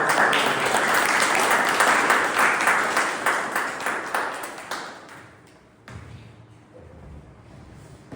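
Hearty audience applause at a Millennium City Toastmasters club meeting welcomes a speaker, loud and dense at first, then thinning and fading to a few scattered claps.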